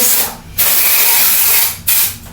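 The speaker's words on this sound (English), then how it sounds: "I'm going to take my dry shampoo and I'm just going to place it all along my scalp." Amika dry shampoo sprays onto hair at the scalp in two loud, steady aerosol hisses, each lasting about a second or more, separated by a short pause.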